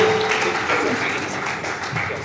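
Applause from a seated audience at a formal poetry event as a guest, a state deputy chief minister, is welcomed onto the stage; steady, fairly loud crowd clapping that carries on for a couple of seconds without pause.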